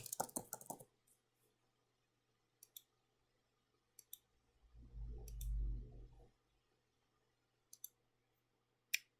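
Sparse, quiet mouse clicks land singly and in quick pairs across an otherwise silent room, broken once by a soft low thump.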